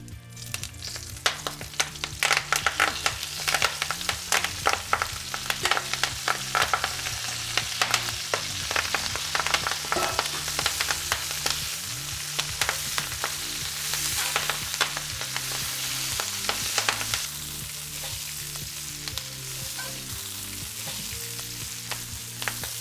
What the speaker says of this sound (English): I just sauteed the kale